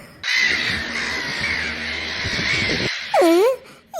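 Loud, harsh cawing from a crow in a cartoon, a long rasping call followed by a couple of shorter caws, close and clear over steady background noise.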